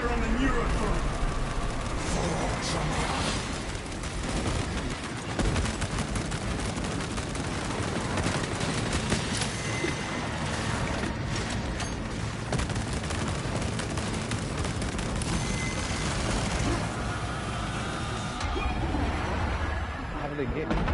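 Dense, continuous gunfire and explosions in the Warhammer 40K video game Space Marine 2, a sustained roar of shots and blasts with voices speaking over the battle.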